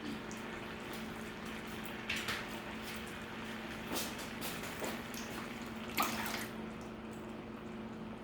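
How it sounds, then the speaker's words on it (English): A can of coconut milk is poured into a simmering kabocha squash soup with shrimp: soft liquid splashing and dripping, punctuated by a few light clunks. "And I'm going to add another can of coconut milk."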